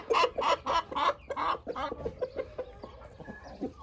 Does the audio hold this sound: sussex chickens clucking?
yes